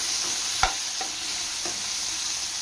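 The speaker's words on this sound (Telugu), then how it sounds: "అదే కడాయిలో మళ్ళీ నేను కొంచెం ఆయిల్ వేసుకొని 1 టేబుల్ స్పూన్ వరకు కట్ చేసుకున్న టమాటాలు మొత్తం వేసుకోవాలండి." Chopped tomatoes fry in oil in a kadai with a steady, close hiss, broken by a sharp scrape of stirring and a couple of softer knocks, no voices.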